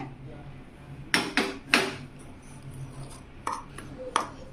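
Crushed biscuits stirred into melted butter in a bowl for a no-bake cheesecake: a handful of sharp spoon clinks and knocks against the bowl, fairly close, spaced irregularly over a quiet room background.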